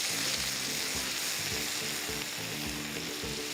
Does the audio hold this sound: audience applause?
no